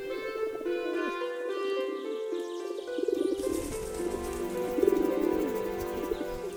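Feral pigeons in a city flock coo softly and repeatedly, their low, steady calls layered over a continuous background with no voices.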